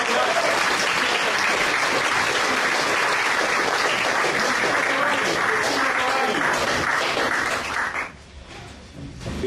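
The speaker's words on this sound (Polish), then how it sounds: "Duże brawa." Audience applause at an award ceremony, dense sustained clapping from a large crowd filling most of the clip before dropping away near the end.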